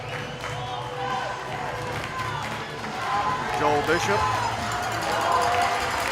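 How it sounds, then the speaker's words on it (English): Crowd roar fills a ball hockey arena during a five-on-three power play in a junior world championship gold medal game, building steadily louder, with clatter from the play and a commentator talking throughout. "Crowd senses it as well. The noise level has gone up exponentially here at the Glacier."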